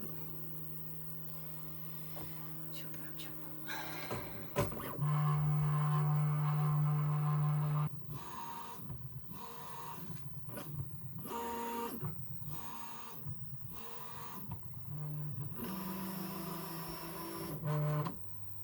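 A 3D printer at work, its stepper motors whining in steady tonal runs broken by short bursts and pauses as the print head moves, close and fairly loud with no voices.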